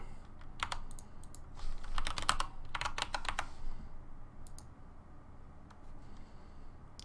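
A computer keyboard clicks as someone types a short password in a few quick bursts of keystrokes, close by and fairly quiet, with pauses between the bursts.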